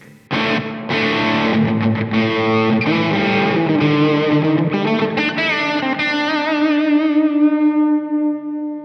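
Distorted electric guitar from an amp at full volume, captured silently through a Two Notes Torpedo Captor X load box, plays a strummed, effects-laden passage with spacious stereo reverb, ending on a sustained ringing chord that slowly decays.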